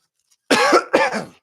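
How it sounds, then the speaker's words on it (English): Two close, harsh coughs in quick succession from a sick person, loud against an otherwise silent background. "My apologize if I'm going to cough."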